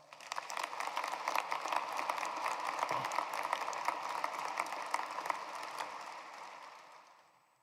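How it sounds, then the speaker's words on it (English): Audience applause at a graduation ceremony, many hands clapping in a large hall, building quickly, holding steady, then fading toward the end. "Please join me in giving them a round of applause."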